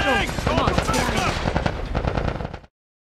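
Rapid machine-gun fire in a video game firefight against Fireflies, dense and loud with shouted voices mixed in, cutting off abruptly near the end.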